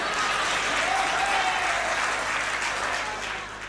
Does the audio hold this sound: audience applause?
yes